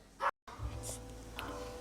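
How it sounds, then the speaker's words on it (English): A small dog yaps in a brief burst amid kitchen sounds, followed by a low rumble and a couple of faint further yips in the background. "the dog's yapping"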